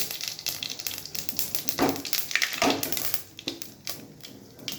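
Mustard seeds crackle and sizzle in hot oil in a pan alongside cloves, cinnamon and cardamom for a tempering, giving irregular sharp pops and spits over a steady frying hiss, close and moderately loud.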